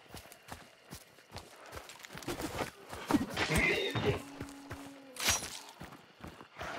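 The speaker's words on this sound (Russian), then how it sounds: "Жирная лошадь." A horse in the video game Hunt Showdown clops along with a steady run of hoof beats, then gives a loud, drawn-out neigh midway, close and clear.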